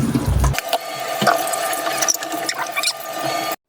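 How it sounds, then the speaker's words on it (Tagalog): Boiled chicken gizzards rinsed in water in a home kitchen, with a steady splashing wash, bursts of running water and small clinks of a bowl or pot throughout, ending in a brief cut. "After kumulo, hugasan ulit natin para matanggal pa yung excess na dumi"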